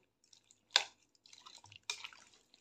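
Blanched spinach dropped into a pot of cold fridge water makes two short splashes with soft dripping and trickling in between, close and quiet with no talk.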